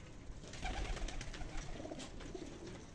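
German domestic pigeons on a rooftop coo in low, throaty pulses, several soft repeated calls close by against faint outdoor noise, with no talk.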